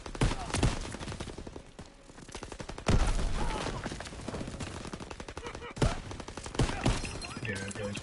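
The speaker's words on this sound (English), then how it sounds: "Open fire. Someone get on the MG." Gunfire and machine-gun bursts in a PS4 war video game battle, loud repeated sharp shots and rapid rattling volleys across the whole stretch, with a few heavier bangs standing out, under occasional voice chatter.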